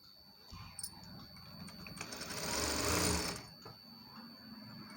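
Sewing machine stitching a dori (drawstring cord), running in a steady mechanical whir that builds to a louder, denser burst midway before easing off, heard alone at close range.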